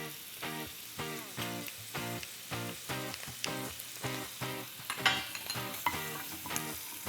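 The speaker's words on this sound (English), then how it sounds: "I'm gonna add my garlic next" Garlic frying in a pan for a Greek shrimp dish, a steady close sizzle broken by rhythmic scraping strokes of a utensil stirring it, with no talking.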